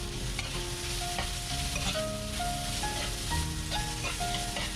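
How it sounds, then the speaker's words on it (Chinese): Bell peppers stir-fried with scallion, ginger and garlic over medium-low heat in a wok, a dense constant sizzle with steady stirring scrapes and faint metallic clinks, loud and close. "中小火把葱姜蒜的香味炒出来以后，再把准备好的彩椒放进来"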